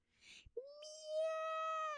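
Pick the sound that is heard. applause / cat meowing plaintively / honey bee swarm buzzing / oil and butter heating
cat meowing plaintively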